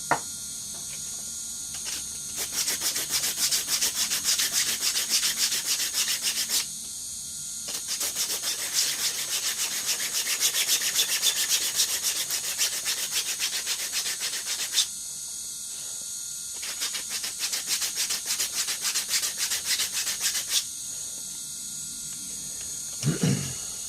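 Sanding a 3D-printed SpaceX Starship model, a steady rasping scrape running in long strokes with a few short pauses, close and fairly loud, with no talk.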